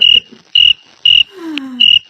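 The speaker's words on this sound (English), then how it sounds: "Chirping of crickets." Crickets chirp in Australia in four regular, loud, close bursts about half a second apart, with a falling whistle-like tone sweeping between the third and fourth bursts.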